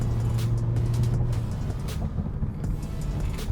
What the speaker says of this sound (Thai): เดี๋ยวผมจะลองขับเข้าไปที่ข้างหน้าแล้วก็ลองเบรกดูครับ